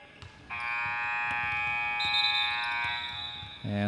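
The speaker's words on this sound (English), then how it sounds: "Coach Leifer, letting the buzzer sound" A basketball scoreboard buzzer sounds in a gym at a girls' state varsity game. One loud, steady electronic tone holds for about three seconds and then cuts off.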